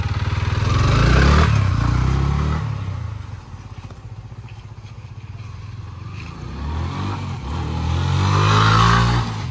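A Yamaha MT-15 motorcycle approaches with a rising engine drone, fades slightly as it passes, then swells loud again on a second pass, recorded from nearby outdoors.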